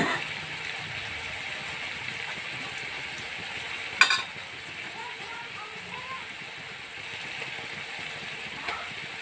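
Eggplant and boiled eggs sizzle and fry steadily in a hot pan of egg curry, a broad crackling hiss with a short sharp clatter partway through.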